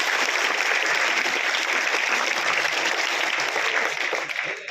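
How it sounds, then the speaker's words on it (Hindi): A school audience claps loudly and steadily throughout, dense and unbroken, easing off slightly at the very end. "एक बार हनुमान सर के लिए बजा लो जोरदार ताली"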